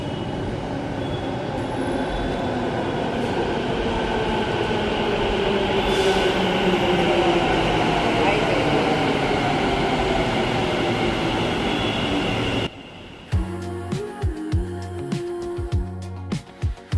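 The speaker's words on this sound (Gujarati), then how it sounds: "ટનલ જેવું લાગે ને ટનલમાં આવતી હોય ને ટ્રેન." A metro train runs through a tunnel, its loud enclosed rumble and rising wheel whine filling the space for most of the stretch before the noise drops away abruptly into quieter, clattering interior sounds near the end.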